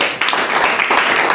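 A church congregation claps hands together, steady lively clapping filling the room, with a voice speaking over it.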